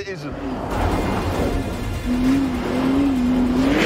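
Lamborghini Urus with 641 horsepower driven in Corsa mode on an ice track, its engine revving loudly and climbing in pitch in two surges, with someone speaking over it.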